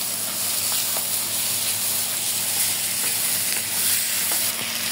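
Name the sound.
potatoes and prawns frying in pan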